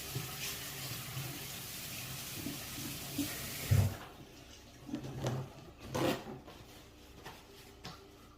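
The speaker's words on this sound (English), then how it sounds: "let me go ahead and rinse my hands off" Kitchen tap running as hands are rinsed, a broad steady splashing rush for several seconds that then cuts off, followed by a few quieter handling knocks.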